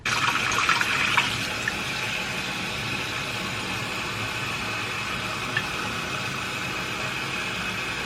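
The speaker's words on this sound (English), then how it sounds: "I'm gonna refill this with warm water." Warm tap water runs into a water flosser reservoir in a bathroom sink, a loud burst at first that settles into a steady, even stream with no talking.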